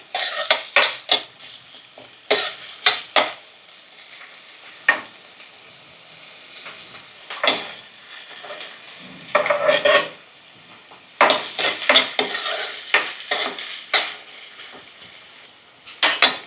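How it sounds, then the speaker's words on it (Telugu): Thinly sliced onions frying in oil in a pan for masala chaat, with a spoon repeatedly scraping and clinking against the metal pan in uneven bursts over a soft sizzle, close up and without speech. "కొంచెం ఆనియన్స్ని మగ్గనిద్దాం"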